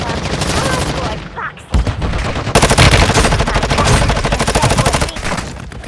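Dense automatic gunfire in the mobile shooter game Warzone Mobile, loud sustained bursts with a brief lull before a heavier barrage resumes and continues to the end.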